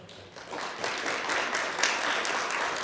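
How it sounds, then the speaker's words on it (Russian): An audience in a lecture hall breaks into dense applause, many hands clapping steadily at moderate distance for a few seconds, with no one speaking over it. "И, наверное, приглашу Павла Григорьевича на сцену под бурные аплодисменты."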